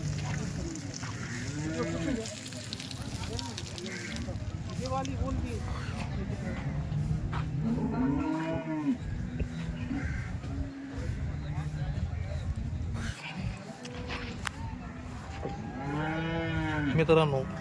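Cattle at a dairy farm moo repeatedly, several long drawn-out calls from nearby cows rising over a busy background, while someone talks throughout.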